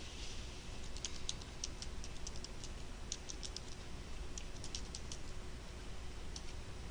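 Fingers tap on a computer keyboard while entering commands on a Cisco 3550 switch, quick faint clicks in irregular bursts over a low steady hum, no talking.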